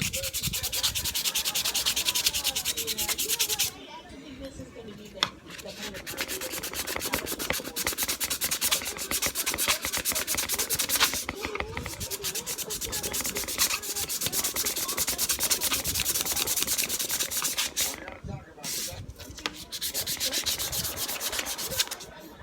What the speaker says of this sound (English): you're gonna take your sandpaper and you're gonna sand it out